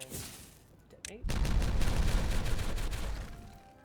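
Detonation explosions in the video game Timberborn, a burst of dense, rumbling blasts that rolls on for a few seconds after a quieter lead-in.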